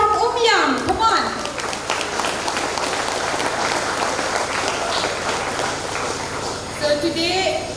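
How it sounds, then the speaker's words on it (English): A crowd at an outdoor youth rally breaks into sustained applause, a dense wash of clapping that carries on steadily from start to finish, with a voice over a loudspeaker at the beginning and again near the end. "we will also welcome them with a big round of applause all the way from Umsning."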